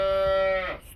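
A hybrid calf of a high-milk cow gives one short, close moo that tails off quickly.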